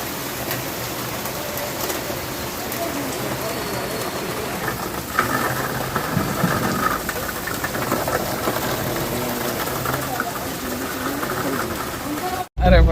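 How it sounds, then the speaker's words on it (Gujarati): Rain falls steadily on a car in Khambhalia, heard from inside as a continuous patter over engine rumble, growing slightly heavier midway, with voices talking at times. "ખંભાળિયામાં ચાલુ થઈ ગયો ભાઈ વરસાદ."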